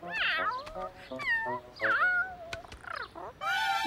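A cat meows repeatedly in quick succession, with varied pitch-bending, rising and falling calls, some drawn out and whiny, close and fairly loud.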